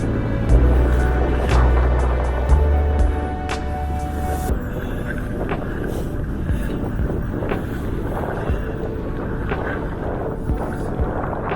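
Wind buffets the microphone in low, rumbling gusts at a pink lagoon, steady and rough throughout, with a brief tonal hum at the start.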